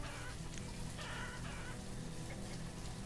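Chickens clucking in a Banished colonial village, soft scattered clucks mixed into a quiet ambient bed of wind and game background sound, faint and continuous.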